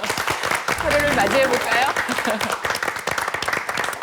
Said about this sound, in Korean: 모두 환영하는 의미에서 다시 한번 큰 박수로